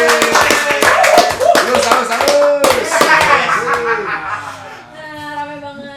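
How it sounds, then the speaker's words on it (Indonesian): An audience at a podcast event claps loudly and briskly, a burst of close hand claps with a few chuckles and voices, tapering off toward the end as a person starts speaking. "Boleh kasih tepuk tangan dulu dong"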